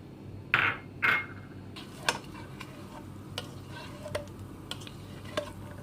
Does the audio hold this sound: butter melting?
yes